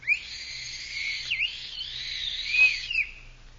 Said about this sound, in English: I absent-mindedly picked up the little tin whistle which was in the box of old things.